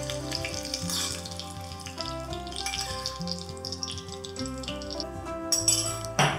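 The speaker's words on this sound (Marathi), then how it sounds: "आता ही फोडणी किंवा हा तडका घालूयात ढोकळ्यावर" A mustard-seed and green chilli tempering sizzles as it is poured over sandwich dhokla, a continuous crackling hiss running under prominent background music.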